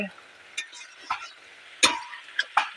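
A spoon stirs fish curry in a pan in short scraping strokes, about six soft scrapes and clinks spread irregularly over a faint sizzle.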